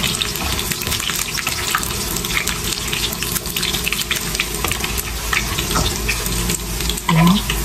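Onion and garlic sizzling in hot cooking oil for beef igado, a dense steady crackle close up with some clinks of a utensil.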